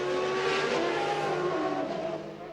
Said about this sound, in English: The cars were fired up and sent out to qualify.